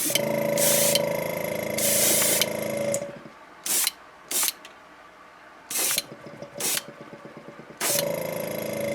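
Aerosol paint sprays onto a fishing lure for a green chartreuse craw pattern: two long hissing blasts at first, then a string of short separate spurts with mechanical clicking between them, close and loud, with no talking.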